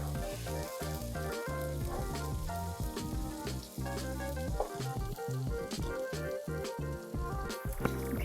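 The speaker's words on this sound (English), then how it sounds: "So we can kind of let it bubble away for a little while" Vegan brown rice risotto sizzling and bubbling steadily in a pan, a dense continuous frying hiss with soft popping that carries on at an even level throughout.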